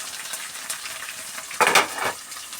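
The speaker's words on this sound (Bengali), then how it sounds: "একটু নাড়াচাড়া করব, আর একটু ভাজা ভাজা হবে" Fish frying in a pan is stirred with a wooden spatula, giving a low steady sizzle with a few brief scraping, clattering bursts near the end and no talking.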